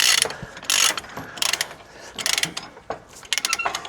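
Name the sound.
ratchets tightening 13mm tie-down chains on trailer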